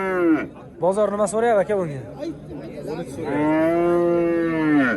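Young bull calves at the Nurobod livestock market moo loudly and close by, a long low call at the start and another drawn-out moo near the end, with someone speaking briefly between them.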